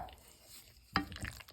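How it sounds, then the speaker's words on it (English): A spoon works through a thick chicken dip mixture of breast meat and leftover cheese, a few soft wet scrapes and squelches close by after a quiet moment. "Mix it all together."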